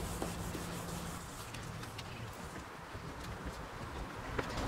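Soft, steady scrubbing of a restoration kit pad being rubbed over a yellowed car headlight, a faint continuous rasp with light irregular taps and no talking.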